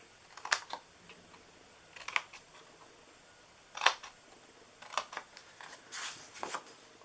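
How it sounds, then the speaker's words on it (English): Scissors cutting the sides of a craft-paper DIY treat holder: scattered sharp snips and crisp clicks at irregular intervals, close but fairly quiet against a soft background hiss, with no talking. "I'm just going to cut in the sides here."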